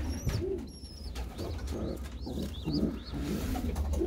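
Pigeons in a loft coo in soft, low repeated calls, with a few high chirps from young birds scattered throughout, close and fairly quiet against a faint background hum.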